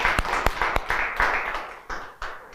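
Claps from a few people at a Buddhist dharma talk, sparse and uneven, several sharp hand claps spread across a couple of seconds rather than a full ovation.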